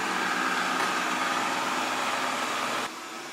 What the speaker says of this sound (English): people don't have time to watch the vacuum clean the entire house, or even this room